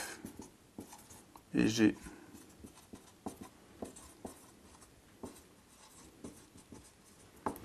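Handwriting on paper for a maths exercise: soft, irregular scratching and tapping strokes throughout, with one louder scrape, while someone talks quietly in French.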